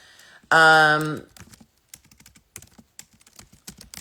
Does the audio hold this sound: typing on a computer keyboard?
yes